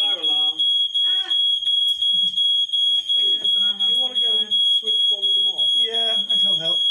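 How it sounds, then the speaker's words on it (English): In a murder mystery game, a fire alarm sounds as a rapid, steady, shrill electronic beeping that pulses continuously throughout, with people talking over it. "Oh, bollocks. Fire alarm."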